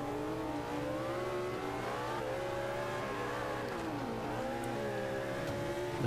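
A high-speed car engine in Forza Motorsport 5 on the Nordschleife revs continuously, its pitch rising and dipping through gear changes, loud and alone.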